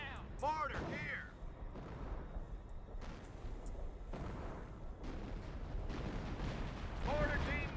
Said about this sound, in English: Incoming! Get the hell down! Mortar here!